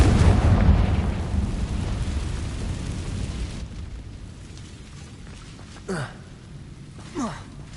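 A spell explosion from a Harry Potter video game booms as a heavy, rumbling blast that slowly fades into a low roar, followed by two short whooshing effects.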